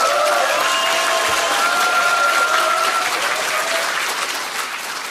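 A large audience at a political event gives sustained loud applause for a politician, a dense continuous clapping that fades slightly toward the end.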